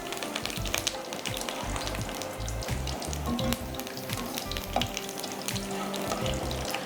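Curry leaves crackle and sizzle in hot oil in a pan as they fry crisp, a dense, steady spitting sizzle with sharp pops throughout, close and loud, no voices.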